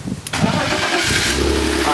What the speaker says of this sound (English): This car's about to start.